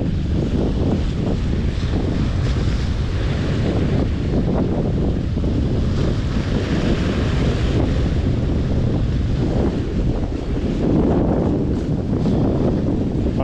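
Strong wind buffets the microphone on a sea breakwater during winter fishing, with waves surging and crashing below in a loud, constant roar that swells now and then. No one speaks.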